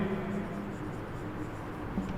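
Chalk or a marker scratches out a point on a classroom board during an applied physics lecture on current and resistance, a continuous scratchy writing sound over steady room noise with faint hum.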